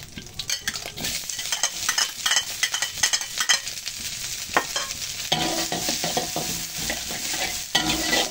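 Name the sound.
stirring and frying ingredients in oil for fried rice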